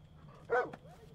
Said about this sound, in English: Oh, I can pet the dog.